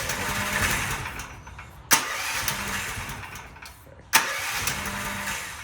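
A Predator 420 small engine makes two sharp starting pops separated by a couple of seconds, with a rough mid-pitched sputter and running noise continuing between them, fairly close.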